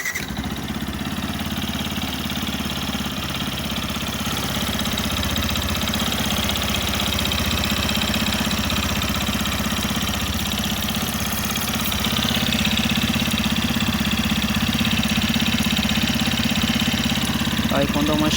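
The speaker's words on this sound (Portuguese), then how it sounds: "Tá com um toque-toque no motor muito estranho" Yamaha FZ15 motorcycle engine idling nearby with a steady, busy mechanical clatter that the rider describes as a strange knock, running continuously throughout with a slight rise in level partway.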